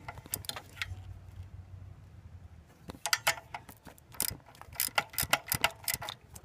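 Ratchet wrench clicking as a 9/16 socket tightens alternator bolts on a 1992 Ford Bronco, with bursts of rapid close metallic pawl clicks, a pause, then several quick irregular runs, no talking.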